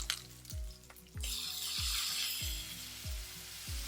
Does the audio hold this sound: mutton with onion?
yes